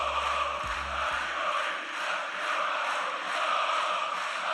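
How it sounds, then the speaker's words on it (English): A large football crowd roars in an old Olympic stadium, a dense, continuous wash of distant voices that rises and falls gently without any clear chants or words standing out. "It's a football crowd, isn't it?"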